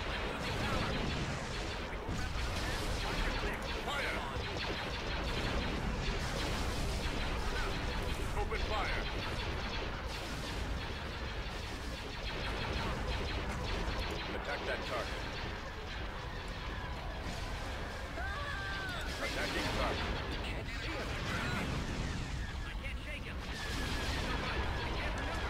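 Turbolaser fire in a space battle in Star Wars: Empire at War, a dense barrage of repeated blasts and crashing impacts throughout, close and loud, with a player talking over the battle.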